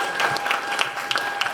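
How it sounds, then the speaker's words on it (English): Brief burst of conference audience applause, a crowd clapping in a dense, uneven patter with individual sharp claps standing out, moderately close. "Give him a round of applause."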